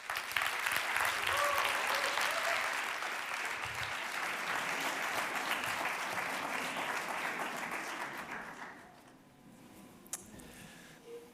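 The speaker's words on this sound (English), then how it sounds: "Please welcome Andrew with a big round of applause." A conference audience applauds to welcome a keynote speaker on climate change, dense and sustained for several seconds before thinning out into a few last claps.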